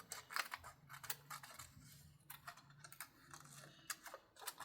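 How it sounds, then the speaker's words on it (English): Small embroidery scissors cutting a rough oval out of paper, quiet close snips and crisp clicks in an irregular rhythm over faint low background hum. "And I'll just cut a haphazard oval."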